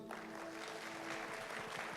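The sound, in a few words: applause in church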